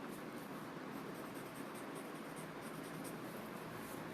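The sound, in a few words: paper tortillon blending graphite on paper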